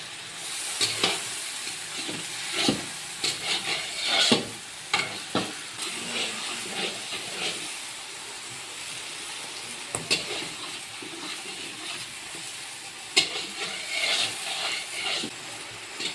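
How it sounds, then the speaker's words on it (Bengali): Meat masala cooking for a school teachers' feast sizzles steadily as hot water is added, with repeated scraping stirs and sharp clatters of the spoon against the pot, close and fairly loud, no talking. "আমি পুরোটা পরিষ্কার করে নেওয়ার জন্য গরম জল মিশিয়ে দিলাম কিছুটা।"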